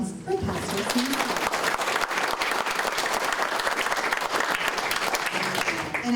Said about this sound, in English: Let's give a round of applause for Pastor Sincere.